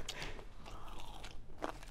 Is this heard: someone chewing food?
yes